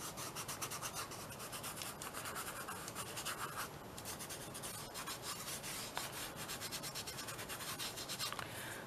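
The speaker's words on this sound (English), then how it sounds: "Okay, let's just rub that off." Silver leaf being rubbed off a mixed media seahorse collage, a continuous dry rubbing and scratching up close, fairly quiet and steady, with no talking.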